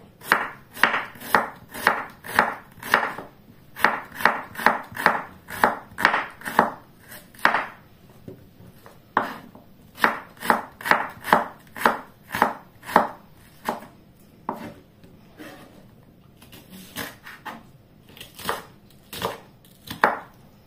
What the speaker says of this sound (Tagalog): cut that in strips too